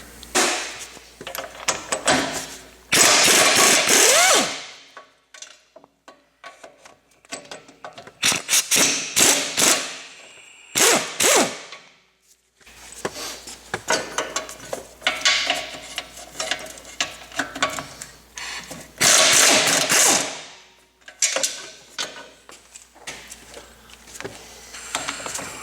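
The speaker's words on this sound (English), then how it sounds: "There are 17mm bolts holding them on. Let's undo those bolts." 17mm bolts are undone on a caravan rear wheel hub with a powered tool, giving several loud whirring, rattling bursts of a few seconds each, separated by short pauses and softer mechanical clicks, close up.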